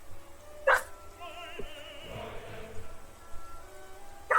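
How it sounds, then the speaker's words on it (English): A dog barks a couple of times, short sharp yelps at the start and end, with quieter background sounds in between. "my dog is barking, but don't mind it"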